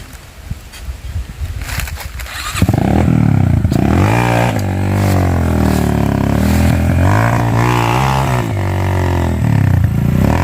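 A motorcycle engine revs hard on a mountain trail, jumping from quiet rustling to a loud, sustained close-up roar whose pitch rises and falls with the throttle.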